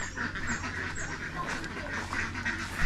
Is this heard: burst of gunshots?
no